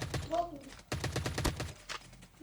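Gunfire in the mobile battle royale game COD Mobile, a few sharp shots under a man's Turkish chatter that dominates the mix.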